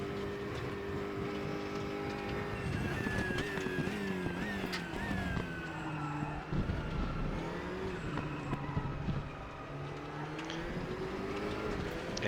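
GT3 race cars racing at Spa in RaceRoom, steady engine drone rising and falling through gear changes, with several cars close together and sustained throughout.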